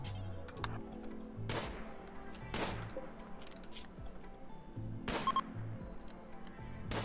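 Gunshots ring out in a video game: three or so sharp, separate reports spaced a second or more apart, heard over a steady low background hum.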